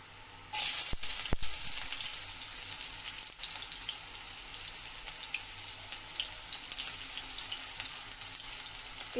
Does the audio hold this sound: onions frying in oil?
yes